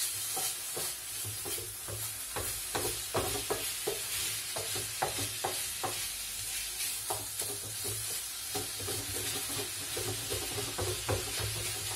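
Kofta being stirred in a sizzling pan, a steady frying hiss with repeated scraping knocks of the spoon against the metal, close and even throughout, with no voices.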